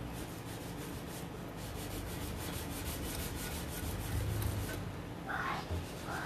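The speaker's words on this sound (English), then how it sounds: "And now I'm just rubbing this transfer on." Someone rubs a furniture transfer onto an aged wooden piece, making continuous soft, close scraping strokes with a few faint knocks near the end.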